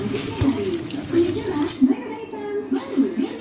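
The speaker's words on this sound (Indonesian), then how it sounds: "Oke, kita buang airnya." Water from washing squid being poured out in a kitchen, splashing and trickling close by in short bursts for a few seconds.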